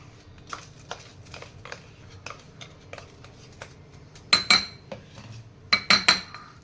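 A spoon mixing no-bake cheesecake ingredients in a bowl, with sparse light taps and clinks that build into a few sharper, louder metallic clinks near the end, close and without talk.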